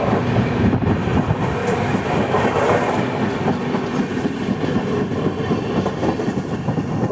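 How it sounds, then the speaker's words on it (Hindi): Saurashtra Janta Express running past Sabarmati Junction, a steady loud rumble of wheels and carriages with rhythmic clickety-clack throughout, no voices. "अभी हमारी ट्रेन स्किप करिए साबरमती जंक्शन को।"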